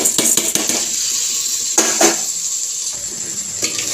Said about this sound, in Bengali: আর এদিকে চালটা দিয়ে দিচ্ছি